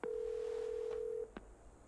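A telephone tone in the Marvel's Avengers video game holds steady for about a second, then cuts off and is followed by a couple of faint clicks, heard alone with no talking.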